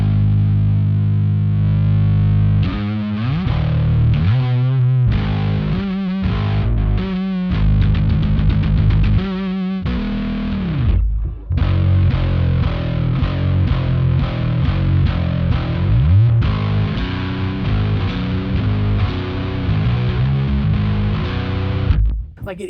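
Heavily distorted electric guitar played through a Fender Super Bassman amplifier, loud and continuous with chugging palm-muted bursts, sustained chords and a brief drop near the middle, alone without talk.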